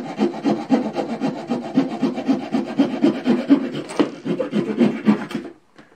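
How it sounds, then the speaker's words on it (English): A small Victorinox Trailmaster folding-knife saw cuts through a finger-width wooden stick with quick, steady back-and-forth rasping strokes. The strokes are close and clear for about five seconds, then stop abruptly and leave near silence. "Let's test the saw. So here I have a stick that's about finger width."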